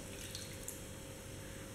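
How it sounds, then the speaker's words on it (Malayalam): Water pours steadily into a cooking pot while Ashoka halwa is being made, a continuous close, even splashing rush with no talking. "ഞാൻ വെള്ളം ഒഴിച്ചു, ആവശ്യത്തിനുള്ള വെള്ളം ഒഴിക്കുകയാണ് ഞാൻ ഫസ്റ്റ്"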